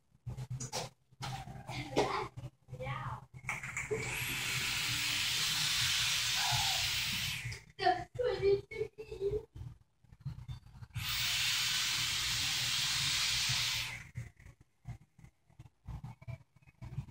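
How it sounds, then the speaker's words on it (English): Two long, breathy hisses of vape vapor being exhaled, each lasting several seconds, come close to the mic. Short clicks and faint indoor noise sit between them, with no speech. "I'm gonna blow a cloud."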